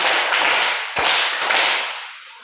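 Sharp hand claps, about four, ring out one after another at a steady moderate pace in a reverberant room, each with a short bright decay and no voices.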